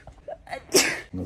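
A single sharp, close sneeze bursts out indoors after a couple of small breaths, followed by a brief voiced sound.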